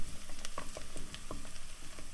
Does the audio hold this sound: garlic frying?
yes